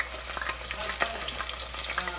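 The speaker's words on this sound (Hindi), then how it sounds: "तेल गर्म हो गया, अब मैं इसमें जो है ना प्याज, ये 1 डली जो मैंने काट कर रखी ना प्याज डाल दी है इसमें" Chopped onion dropped into hot oil, giving a dense, loud crackling sizzle that stays steady and close throughout, with no one talking.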